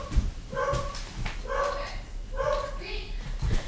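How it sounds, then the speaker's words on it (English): A dog barks and yips in three short bursts at a steady rhythm, fairly close, with a final brief yelp. "my dog's barking"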